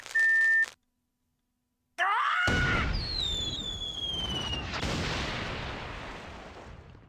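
A gun shot rings out in The Neverhood, a sudden loud blast with a whistling, descending tail that fades over several seconds. A short bright tone sounds just before it, followed by a brief silence.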